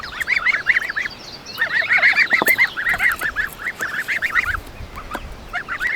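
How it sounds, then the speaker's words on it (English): Shetland geese on a farm honking in rapid repeated bursts, several birds calling close by and loud, with short gaps between volleys. "These are Shetland geese,"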